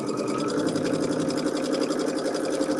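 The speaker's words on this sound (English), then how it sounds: "Okay, so I'm going to sew this." A sewing machine stitches quilt fabric in a steady, rapid, even whir of needle strokes, close and continuous with no talking.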